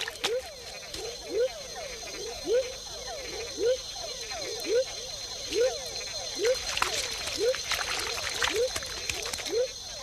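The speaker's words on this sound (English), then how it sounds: "These tiny frogs mate in very shallow pools at the foot of dipteryx and other trees" Tiny frogs in Panama call from shallow forest pools at the foot of dipteryx trees, giving a steady series of short rising chirps roughly every half second, moderately close over a background of insect and forest ambience.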